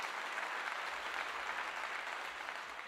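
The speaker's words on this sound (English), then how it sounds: "Round of applause for Corey Renee and Dijon Paul." A crowd applauds steadily, dense clapping filling the whole stretch at a consistent loud level.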